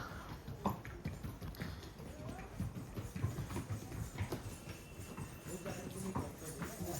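Horses walk on a pilgrimage path at Vaishno Devi, their hooves clip-clopping in a steady, uneven patter at moderate distance over a constant crowd and outdoor hum.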